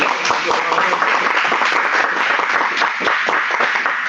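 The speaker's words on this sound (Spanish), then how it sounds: "un aplauso a doctora" An audience at an inaugural university lecture applauds the doctor who spoke, loud close clapping from many hands held steady throughout, with a few scattered voices mixed in.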